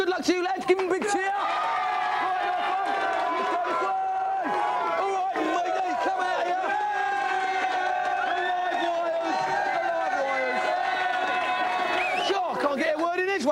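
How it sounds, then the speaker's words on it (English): A studio audience at a TV video game show roars and cheers for a team in a sustained, loud wave of whoops and crowd noise, with a host's voice talking over it. "Give them a big cheer."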